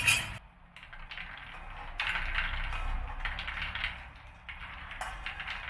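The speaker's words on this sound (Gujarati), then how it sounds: "તમે સાંભળી શકો છો કે એકદમ ખખડવા લાગ્યા છે." Roasted makhana (fox nuts) rattling and clattering in a pan during dry roasting, a dense dry scraping rattle in bursts with brief pauses, close and moderately loud, no voices.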